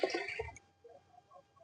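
Water is poured into a pressure cooker holding soaked raw rice for sweet pongal, a brief splashing rush that fades quickly into near quiet.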